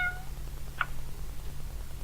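A cat in the video game Fausts Alptraum gives a single short meow, clear but brief, over a steady low background hum.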